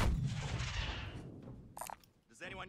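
Sniper rifle shots ring out in a shooter video game: a heavy opening blast trails into a long rumbling decay, followed by a few sharper cracks and clatter near the end.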